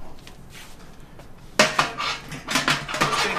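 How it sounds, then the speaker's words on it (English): Metal kettle false bottom being fitted into a Robobrew all-grain brewing system: after a quiet start, a sharp metallic clank followed by several ringing scrapes and knocks of metal against the metal pot, close and loud. "we can install our kettle false bottom"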